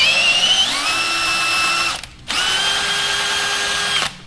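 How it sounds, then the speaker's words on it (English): A power drill drives a 1/4-20 tap into a metal skid plate mount in two steady whining bursts, each rising in pitch, separated by a brief pause, close and loud with no talking. "I just took my 1/4-20 bit, or tap, put it in my drill, and I'm going to go through"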